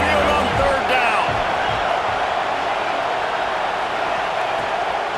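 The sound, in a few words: crowd noise in a stadium, from the video game College Football 26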